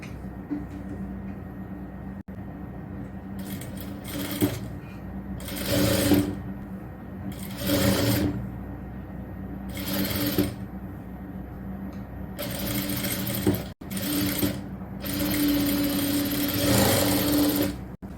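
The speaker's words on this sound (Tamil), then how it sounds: "அடுத்தது முன்கழுத்து உள்துணி எடுத்து இதுல அந்த ஓரம் இதே மாதிரி மடிச்சு தைக்கலாம்." Sewing machine stitching the front neck lining of a nighty, loud close bursts of rapid mechanical whirring separated by short pauses.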